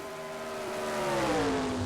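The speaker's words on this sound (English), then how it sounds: "should I turn up these engines a little bit?" Race car engines in a racing video game, a steady droning roar with rising pitch as they rev up, sustained and fairly loud with no talk.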